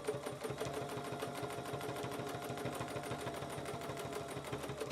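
Sewing machine stitching a quilt in the ditch along a Baptist fan template, a steady fast rhythmic clatter of the needle running continuously at even volume, close and alone with no voices.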